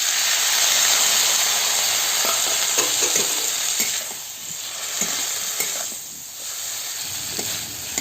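Potato and shrimp curry sizzles loudly in a pan after water is added, a dense continuous hiss with occasional stirring scrapes, close up and without speech.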